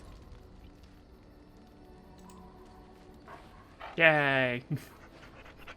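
A dog in the Dragon Age: Origins video game gives a short loud bark-like yelp near the end, after a quiet stretch of low game ambience, with a brief excited voice at the same moment.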